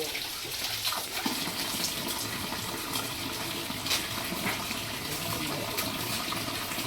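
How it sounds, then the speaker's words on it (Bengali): Natural spring water flowing out of a rock in a Meghalaya cave garden during monsoon, a steady close splashing gush that continues evenly throughout without pause. "মানে এই জলটা একটা রকের ভেতর থেকে বেরিয়ে আসছে ন্যাচারাল ওয়েতে।"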